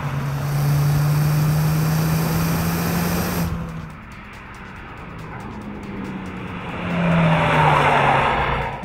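A 2014 Ford Fiesta ST powering through a corner, its turbocharged engine droning steadily with a low tone, easing off briefly and then pulling harder again with rising tire noise, loud and close.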